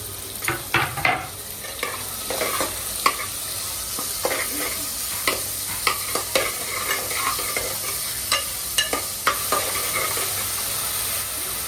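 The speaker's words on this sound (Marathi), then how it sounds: "कांदा पूर्ण ब्राऊन होईपर्यंत त्याला परतून घ्या" Onion for mutton Malvani masala being stir-fried in a pan until browned: a continuous soft sizzle with regular sharp scrapes and taps of a spoon, close and fairly loud, with no talking.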